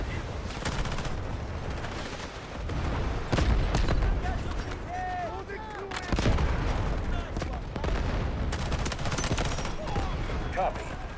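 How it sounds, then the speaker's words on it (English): An artillery barrage in a video game, with heavy booming impacts and rattling gunfire layered into a constant loud battle din, and voices talking over it. "Requesting artillery barrage."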